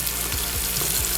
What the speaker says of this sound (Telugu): 1 కప్పుకు 2 కప్పులు వాటర్ వేసి